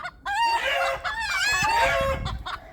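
Loud, close rooster crowing with excited clucking and squawking from chickens, continuous and overlapping.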